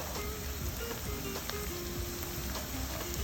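Onions frying in hot oil for chicken tikka biryani, a steady close sizzle with fine crackling pops throughout and no talk.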